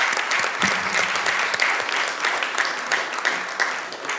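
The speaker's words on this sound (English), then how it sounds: "So a huge round of applause for all of you for being here today with us." An audience at a jewelry industry trade symposium applauds, a dense, steady wash of clapping from many hands that carries on evenly throughout.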